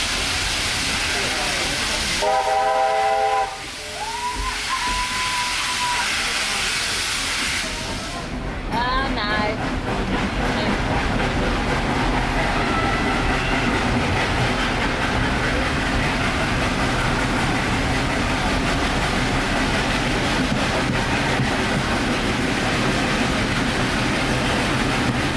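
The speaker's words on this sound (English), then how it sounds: "Takes a little while to get going on a steam train, but don't you worry, it builds up quick." A small steam train gets underway in a race at a steam festival, with continuous loud hissing and chuffing rumble, a few whistle-like tones early, carrying on steadily throughout.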